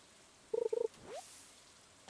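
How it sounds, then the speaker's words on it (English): Frogs croak in Stardew Valley (Sam expansion mod), with two quick bursts of rapid, pulsing croaks close together, faint against a quiet background, followed by a brief soft sweep. "I hear the frogs, they're like teasing me at this point."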